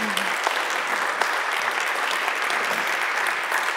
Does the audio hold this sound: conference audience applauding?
yes